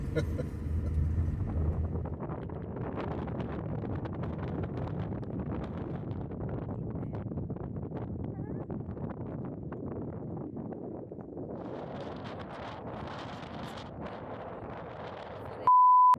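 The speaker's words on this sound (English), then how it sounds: "It's so windy out here" Wind buffets the microphone in a continuous low rumble, gusting unevenly for the whole stretch on the open Pawnee National Grasslands in Colorado, with a brief electronic tone at the very end.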